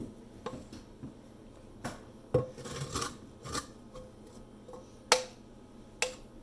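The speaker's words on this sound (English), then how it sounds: "I'm just gonna scrape it out onto my counter." Cooked playdough being scraped out of a pan onto a kitchen counter, heard as a series of short, sharp scraping rasps at irregular intervals over a quiet background.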